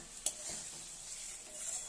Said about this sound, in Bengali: সমস্ত কিছু খুব ভালোভাবে মিশিয়ে নিচ্ছি।